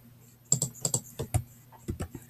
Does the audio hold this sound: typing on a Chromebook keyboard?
yes